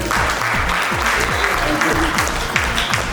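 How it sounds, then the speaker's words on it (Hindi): An audience claps steadily during a network marketing seminar in India, dense sustained applause filling the room for about three seconds with no talk over it. "तालियों के लिए थैंक यू।"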